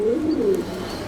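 Fancy pigeons coo softly nearby, a low warbling call rolling steadily through the short moment with no talking.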